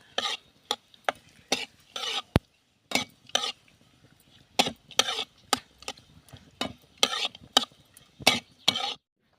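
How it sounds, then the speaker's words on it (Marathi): Garden cress seeds roasting in ghee are stirred in a pan, a spoon scraping and clinking in short, irregular bursts of strokes separated by brief pauses. The sound is close and clear, with no talking. "जे आळीव आहेत ते आपण तुपावरती परतून घेऊया एक दोन तीन मिनटं आपण परतून घेणार आहोत"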